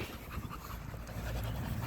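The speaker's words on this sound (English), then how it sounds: "I'm going to let you see these dogs for a minute before I give them some water" Several dogs pant close by before being given water, a rapid, steady run of breathy huffs that carries on without a break and with no talking.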